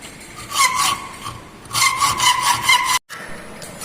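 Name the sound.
hand saw cutting the tapered side of a wooden dovetail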